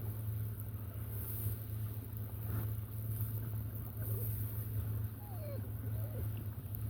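An electric kayak cruises across Cain Lake on an overcast day, giving a steady low motor hum with continuous water wash and faint wind throughout.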